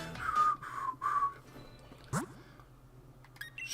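A person makes a weak, breathy attempt at whistling, producing three short wavering tones close by before trailing off into quiet, with a faint click and game background sounds of Pokémon Sword and Shield.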